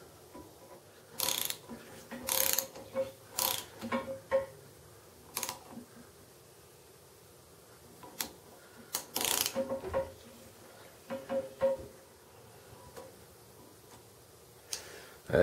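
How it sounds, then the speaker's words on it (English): A hand thread tap cuts threads into a hole in a Dana 60 axle housing, giving short irregular clicking and ratcheting bursts with quiet pauses, close and fairly soft. "now we should be able to cut threads all the way to the bottom of the hole"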